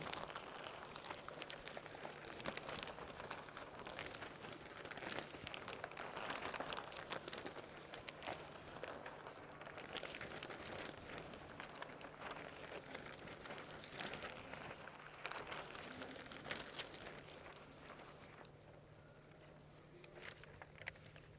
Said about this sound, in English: takes one of the posters, crumpling up the corners and waving it up and down